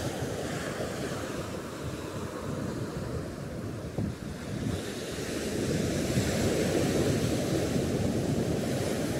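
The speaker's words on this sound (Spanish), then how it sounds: "esta música del mar." Sea waves breaking on a beach in Chile, a continuous roar of surf with heavy wind buffeting the microphone, swelling louder in the second half and holding steady with no voices.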